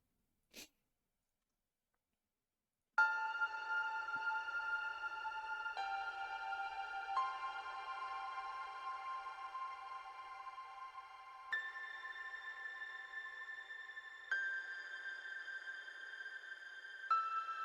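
A synth piano from Analog Lab plays sustained chord patterns with changing harmonies, soft and smooth, washed in reverb and shimmer, heard alone after a brief click and a short silence.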